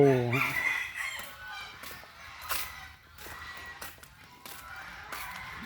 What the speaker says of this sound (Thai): อันนี้เป็นไก่ฟ้า